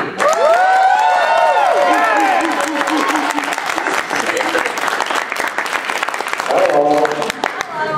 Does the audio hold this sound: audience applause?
yes